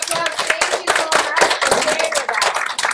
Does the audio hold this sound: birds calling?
no